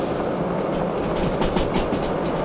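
Locomotive train rolling on rails in the Derail Valley video game, braking on a downhill run: a continuous loud rumble with rhythmic clickety-clack wheel beats, with no voices.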